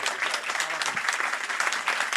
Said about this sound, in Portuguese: Uma salva de palmas aí.